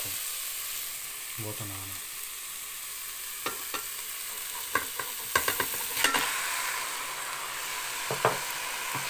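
Vegetables sizzle and fry steadily in a multicooker as canned stewed meat is stirred in, with scattered scraping clicks from a spoon over the constant hiss and a brief spoken word.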